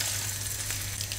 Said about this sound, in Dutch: Ik doe wat olie in de pan.